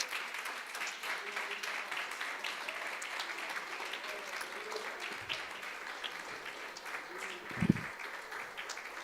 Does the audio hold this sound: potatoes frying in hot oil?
no